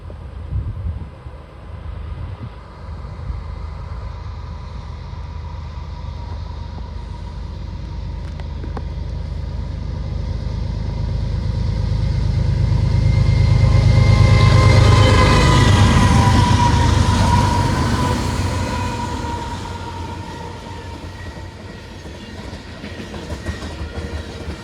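A long 450-axle freight train, mostly demolition loads, rolls uphill through rural Montgomery, Massachusetts, its rumble and clickety-clack of wheels building to a loud close pass midway and then fading, with no talking.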